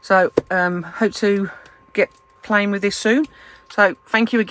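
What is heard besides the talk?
None of the usual background noises is heard.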